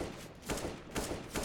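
Several sharp gunfire taps in CS:GO during a Refuse vs. Horsens esports match, three or four broadband bursts spaced roughly half a second apart over a steady game background.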